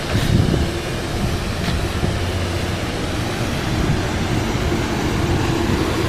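A train passing at Cold Spring on the Hudson line, a steady broadband rumble that holds evenly throughout at moderate loudness, with no voices.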